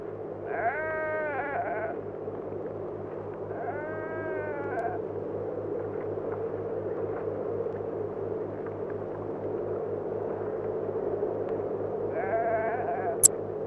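Sheep bleat in a flock tended by Bedouin herders in Kuwait, a few wavering calls at intervals over a steady low engine-like hum, fairly faint and with no talk.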